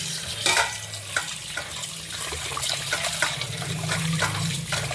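Raw liver rinsed under running tap water in a home kitchen sink, a steady splashing flow with intermittent clatters as the pieces are handled, fairly close.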